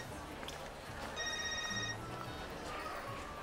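A telephone in a village home rings in one short electronic burst of about a second, standing out over a low background hum with no one talking.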